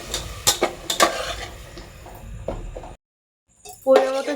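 Potato curry being stirred in a pan at home, a utensil scraping and clinking against the metal in short strokes for about three seconds, then a pause and a louder rattle of cookware.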